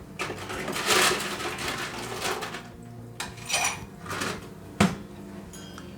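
Ice scooped from an ice machine into a glass for an Old Fashioned, several clattering, rattling bursts of cubes with a sharp knock near the end, close and moderately loud.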